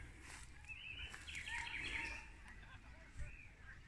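Small birds chirp faintly by a lake in the countryside, with a soft, busy twittering rising in the middle of a quiet outdoor scene.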